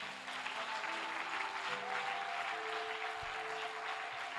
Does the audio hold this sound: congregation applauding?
yes